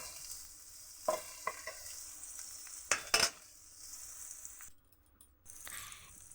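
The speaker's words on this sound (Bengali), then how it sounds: "পেঁয়াজ, কালো জিরে, কাঁচা লঙ্কা, শুকনো লঙ্কা, রসুন কুচি দিয়ে ভালো করে ভেজে নেওয়া হলো" Onion, black cumin, green and dried chillies and chopped garlic fry with a soft, steady sizzle in a pan, punctuated by several sharp scraping clinks of a spoon stirring, briefly going quiet before the sizzle resumes.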